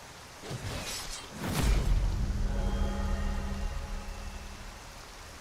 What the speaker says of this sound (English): You better pray to Kagranak that this mask won't rust in this rain.